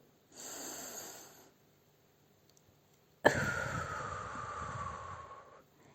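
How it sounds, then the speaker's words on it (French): A calm deep breath during a guided relaxation exercise, starting with a quiet drawn-in inhale, then a brief silence, then a sharp onset into a long, audible exhale, close up and alone. "Alors prends une nouvelle grande respiration."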